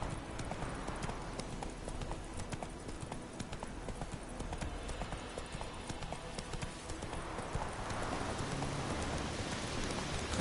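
Roach the horse galloping in The Witcher III video game, with rapid rhythmic clip-clop hoofbeats running continuously and close, with a rain-like hiss in the background.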